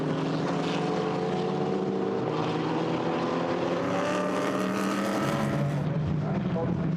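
GT4 race cars roar past on the Nürburgring circuit during a European Series race, a dense continuous engine drone with shifting pitch, loud and sustained, mixed with a commentator's voice.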